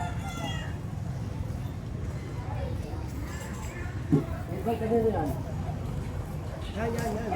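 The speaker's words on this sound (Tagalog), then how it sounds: "May mga manok pa, oh." Chickens cluck and crow faintly in the background while people talk over a steady outdoor rumble on a street in Tondo, Manila.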